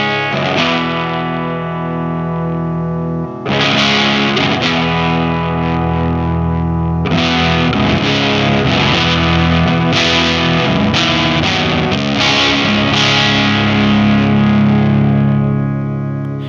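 A Swamp Witch Silver Birch overdrive pedal running on its dark channel alone, with thick, saturated electric guitar chords ringing out and restruck in loud, sustained bursts.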